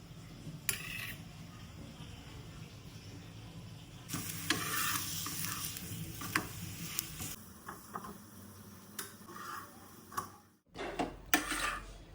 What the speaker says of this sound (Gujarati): આપણે નાખી દઈએ તાવડી ઉપર.